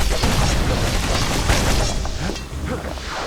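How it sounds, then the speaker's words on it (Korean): Grenades explode in the action game Bastion. Dense, loud booms and crackling bursts pile into a continuous rumble before easing slightly toward the end. "여기도 수류탄."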